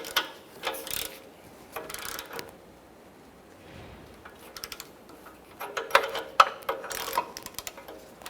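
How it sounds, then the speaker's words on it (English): Ratchet tightening an oxygen sensor into the exhaust of a 2011-2020 Toyota Sienna 3.5L V6, bursts of quick clicking pawl strokes with pauses between, close and fairly quiet, with no talking. "go ahead and bottom it out and then torque that to 30 foot-pounds"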